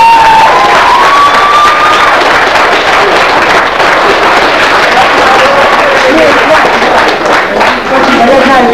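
Audience clapping at a student initiation celebration: a loud, dense, continuous wash of applause mixed with crowd chatter and cheering, sustained throughout.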